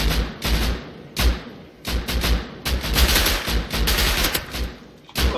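Bursts of gunfire from a gun in the survival video game Rust, loud, close rapid volleys broken by brief pauses across the span, with no talking.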